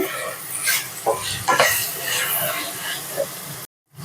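Ridge gourd pieces fry with a little turmeric in a pan over medium flame, giving a steady close hiss broken by brief stirring scrapes, then a short silent gap near the end.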